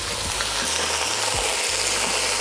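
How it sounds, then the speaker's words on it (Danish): Langoustine shells frying in very hot neutral oil make a loud, steady sizzle and crackle that runs continuously without a break, with faint low clunks from the pan underneath. No one is talking. "Vi tager jomfrummerskallerne og sådan den her helt varme, neutrale olie."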